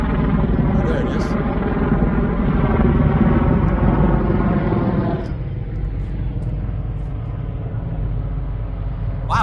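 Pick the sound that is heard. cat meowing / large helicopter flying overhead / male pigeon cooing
large helicopter flying overhead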